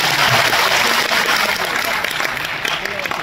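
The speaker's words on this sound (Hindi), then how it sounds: "तालियां कर दो, जोरदार तालियां।" An audience at a government ceremony for distributing joining letters gives loud, vigorous applause, a dense burst of many hands clapping that stays strong throughout and thins slightly near the end.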